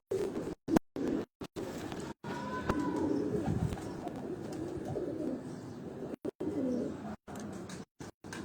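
Pigeons coo softly in a loft of high-flying racing pigeons, low repeated throaty coos under faint rustling and scratching, with occasional brief dropouts in the sound.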